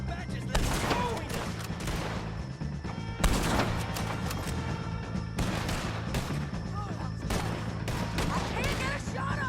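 Dense gunfire from a Red Dead Redemption 2 shootout with the O'Driscolls crackles in repeated bursts of loud, sharp shots, some overlapping, with voices shouting between volleys.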